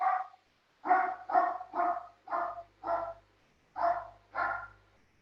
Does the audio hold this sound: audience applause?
no